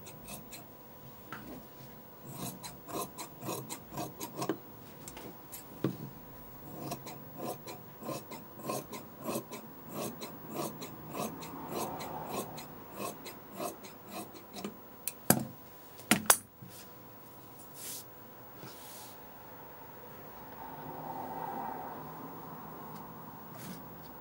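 Fabric being cut into a bias strip makes soft, faint scissor snips and rasping strokes in an irregular run, with a couple of sharper clicks partway through.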